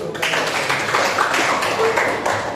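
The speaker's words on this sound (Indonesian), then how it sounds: "Kita beri aplaus dulu" A classroom audience breaks into applause, a steady patter of many hands clapping that fills the room and continues evenly throughout.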